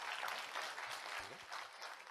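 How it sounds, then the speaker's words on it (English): Audience applause at a tech talk on ML feature engineering platforms, a dense steady patter of clapping lasting a couple of seconds, moderately loud and without speech on top. "Huge round of applause."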